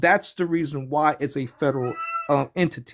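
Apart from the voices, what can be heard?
pet cat meowing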